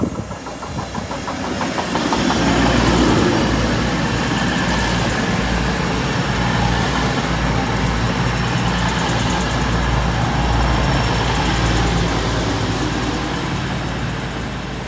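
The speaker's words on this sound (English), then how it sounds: "the 1345 from Sheffield to London St Pancras" Sheffield to London St Pancras passenger train passing at East Midlands Parkway, a loud, rumbling engine roar with rail clatter that swells and holds steady for the whole pass.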